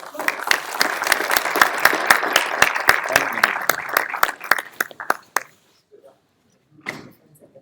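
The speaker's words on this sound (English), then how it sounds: "Please give him a very warm round of applause" Warm applause from a business masterclass audience, steady dense clapping for about five seconds before thinning to a few scattered claps and dying away.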